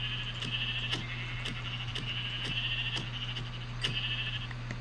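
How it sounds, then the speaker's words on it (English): Sheep bleating in the Minecraft video game: short repeated bleats over a steady background drone and faint clicks, with no talk. "I need more sheep, don't I?"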